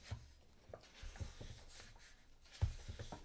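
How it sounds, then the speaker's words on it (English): Soft rustling of paper with a few sharp taps and thumps against a desk, sporadic and close, in a quiet room. "that's more shuffling the paper and hitting the desk"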